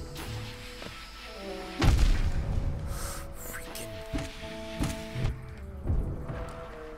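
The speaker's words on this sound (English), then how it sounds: "Okay, they shoot explosives." Explosive shots from enemies in Hollow Knight: a deep boom near the start is followed by several softer thuds and bursts over a low, steady game soundtrack.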